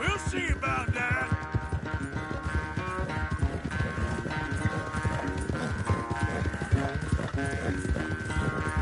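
Rhythmic hoofbeats of a galloping horse in Red Dead Redemption 2, fast and steady, with a busy game soundtrack layered over them.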